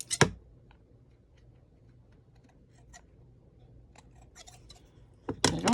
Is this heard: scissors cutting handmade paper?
yes